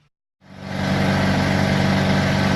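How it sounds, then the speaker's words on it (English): A steam cleaning truck's engine starts after a moment of silence, then runs steadily with a loud, even idle drone and no voices. "we got our truck fired up"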